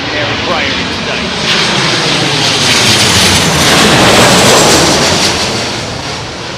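A Boeing 737 airliner arrives at Heathrow in strong wind, its loud engine roar rising and falling under heavy wind buffeting, close and continuous.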